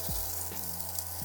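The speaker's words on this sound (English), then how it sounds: "now we're just gonna pan fry them" Mitarashi dango on long sticks pan frying in a lightly oiled pan, a steady close sizzle with a few soft knocks as the sticks shift.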